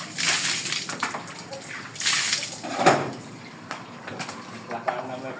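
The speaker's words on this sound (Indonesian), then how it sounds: "Kita cuci tangan dulu, bilas tangannya." Hands washed and rinsed under running water while preparing to butcher a goat, giving a steady hiss of flowing water with uneven splashes and a louder slosh near the middle, and someone speaking over it.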